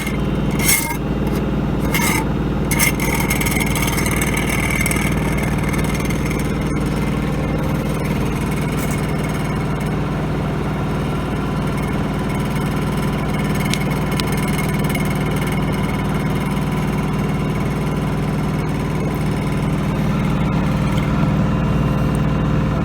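A Maytag washing machine runs its spin cycle on a normal wash with a medium-heavy load, giving a steady, loud mechanical drone with a rasping undertone and a few rattles near the start. No one speaks.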